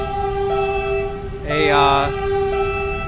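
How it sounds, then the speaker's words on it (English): A passenger train sounds a horn briefly at a station beside Pedro Gil Road in Santa Ana, Manila, Philippines, a tonal blast rising over steady rumbling street and rail noise. "so you can see what a train looks like in the Philippines."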